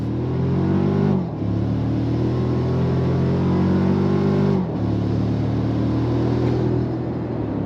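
A 2025 Toyota Tacoma Trailhunter pickup accelerating hard on throttle, its engine note rising steadily in pitch across two pulls separated by a brief gear-change dip, loud and close without talk.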